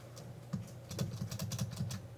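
Keys tap on a computer keyboard during a programming lecture, starting with a few scattered presses and then a quick run of soft clicks close by in a quiet room.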